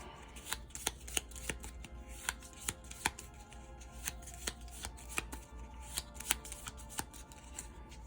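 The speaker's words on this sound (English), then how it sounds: "So I'm having to shuffle a lot" Cards from The Big Book of Madness board game are shuffled by hand, a quiet, close series of crisp riffling snaps and taps repeating at irregular intervals about every half second to second.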